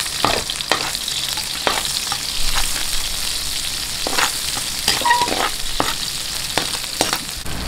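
Onions sautéing in a pan for pancit canton, a continuous frying sizzle punctuated by repeated scraping stirs of a utensil, steady and close.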